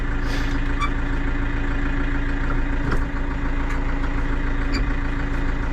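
A HATTAT T4110 tractor with a Perkins diesel engine idles steadily with a deep, even rumble, a brief clunk near the middle as gears are shifted, and no voices over it.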